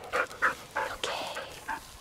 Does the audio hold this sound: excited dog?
yes